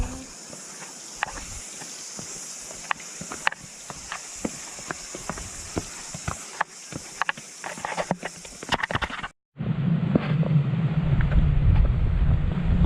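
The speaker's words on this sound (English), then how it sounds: "You can hear that deep wind." Deep wind roars and buffets low and heavy on a mountain ridge on the Pinnacles walk of the Kauaeranga Kauri Trail, rising suddenly after quieter footsteps and light rustling on the track.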